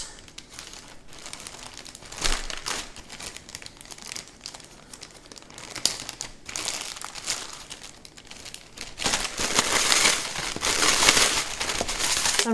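A packet of powdered dessert sauce mix shaken by hand, close crinkling and rustling plastic that grows busier and louder toward the end, without talk.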